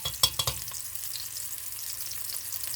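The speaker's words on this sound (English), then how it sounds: "This is how I make my fried meatballs." Meatballs frying in a pan, a few quick pops and crackles at first, then a quiet, steady sizzle.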